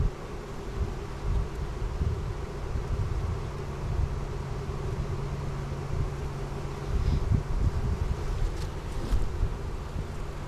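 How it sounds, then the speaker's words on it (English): Honey bees newly installed from a package swarm around an outdoor hive, making a steady dense buzz that carries on for about ten seconds with light wind noise and no talking. "More bees."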